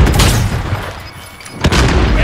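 A flashbang grenade goes off in Call of Duty Modern Warfare, a loud broadband burst over dense game noise, with a sharp pop near the end of the short stretch.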